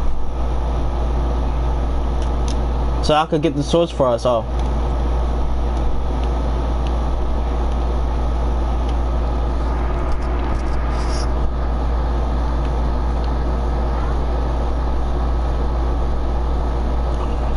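A train moving in a Black Ops zombies game produces a steady, loud low rumble that runs unbroken throughout, with a player's voice briefly speaking over it.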